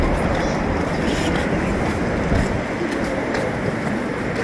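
A train runs along an elevated track at Expo '70 Commemorative Park in Japan, giving a continuous rumbling roar with a broad wash of noise. The sound is fairly loud and outdoors, and no clear speech rises above it.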